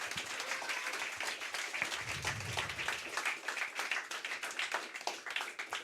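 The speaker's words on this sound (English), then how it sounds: "So round of applause to everybody here." Audience applause at the closing of a student group's annual event, a dense and steady burst of many hands clapping that carries on for several seconds, fairly close and moderately loud.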